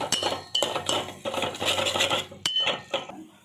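A spoon stirs cauliflower soaked in hot water together with turmeric, garam masala and chili powder, making repeated close clinks and scrapes against the bowl in short bursts, with no talking.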